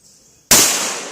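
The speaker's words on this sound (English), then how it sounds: "we're firing the Ruger American Ranch Compact and 300 Blackout unsuppressed" A single sharp, loud report from a Ruger American Ranch Compact rifle firing 300 Blackout unsuppressed, rising abruptly out of quiet and ringing off in a long decaying tail.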